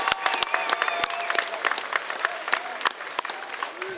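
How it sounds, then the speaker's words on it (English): Audience applause ringing out after a three-round Muay Thai fight, a dense steady patter of many hands close by with a few sharp louder claps standing out, a faint voice over the crowd. "a big round of applause for both these men, please, after 3 hard-fought rounds of action"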